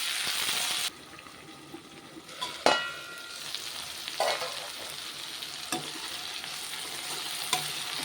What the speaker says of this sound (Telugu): తర్వాత టమాటాలు రెండు టమాటా కూడా బాగా ఇంగుట్లోనే ఫ్రై అవ్వాలి